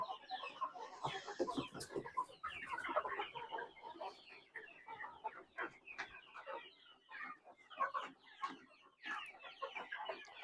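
Pullets on a poultry farm cluck and squawk continuously in a dense, busy flock, many birds calling at once with overlapping bursts close to the listener.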